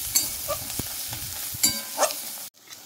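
Spice pastes of ginger, cumin and dried chili with turmeric, coriander and red chili powder fry in a small amount of oil for a prawn curry, soft sizzling broken by a few spoon stirs and scrapes, close up.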